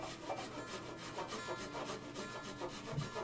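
A flush cut saw works through 3/4-inch maple pins set in a white oak workbench, a quiet, rhythmic back-and-forth rasp of fine teeth on hardwood, steady and close.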